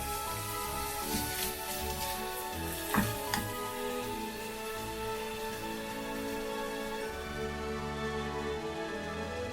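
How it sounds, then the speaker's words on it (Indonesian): Thin strips of carrot fry in sesame oil with a steady close sizzle, broken by a few louder crackles and spatters near the start before settling into an even hiss. "Smażymy z olejem sezamowym."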